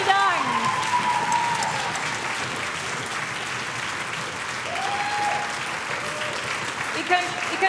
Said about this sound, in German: Riesengroßen Applaus